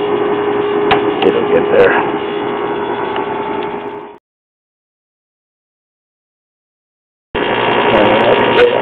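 A reach-in freezer's compressor runs as a steady, fairly loud drone with a constant hum, cutting out to silence midway before resuming; someone speaks briefly over it.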